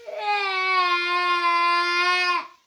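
An infant wails in one long, loud, sustained cry held steady for over two seconds before breaking off, close to the listener with no talk over it.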